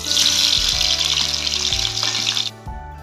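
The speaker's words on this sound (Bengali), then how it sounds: "এরপর রাঙালুগুলো ভেজে দিচ্ছি।" Sweet potato pieces frying in hot oil for a Bengali sukto, a loud steady sizzle that continues nearly throughout and drops away near the end, with low clattering knocks of utensils underneath.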